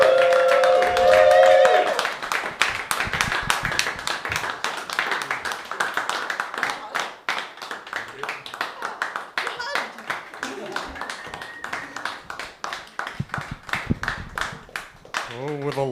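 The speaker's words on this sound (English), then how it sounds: "Andrew Turnbull, come up here and get your clappers clapping." A comedy open-mic audience claps and cheers as a comedian comes up to the stage. The applause is steady and dense, starting after a short musical sting and carrying on under a speaking voice.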